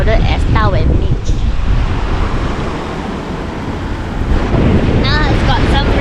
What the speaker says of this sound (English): Now it's got some really good waves